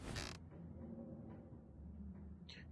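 Creaking foundations of an empty estate in the game Scarlet Hollow: a low, sustained groaning creak under a dull rumble, opened by a brief burst of hiss and ending with a faint higher squeak, with no voices.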